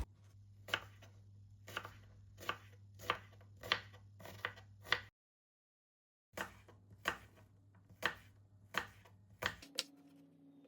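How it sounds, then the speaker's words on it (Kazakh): A knife chops apples into cubes by hand on a board: sharp, close, regular knocks in two bursts of about eight strokes each, separated by a short pause, with no talking. "Енді алманың бәрін кубиктап турап ыдысымызға саламыз."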